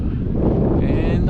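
Strong gusts buffet the microphone in a dense low rumble during a windy demo flight of an XFly Swift RC plane, steady and close, with a faint motor whine rising near the end.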